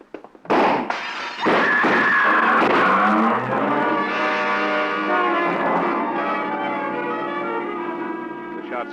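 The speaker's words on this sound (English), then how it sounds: "The shots came from a car, double parked." Gunshots ring out from a double-parked car in an old-time radio drama, with two sharp close reports early on, followed by a ringing, tonal clatter that slowly fades.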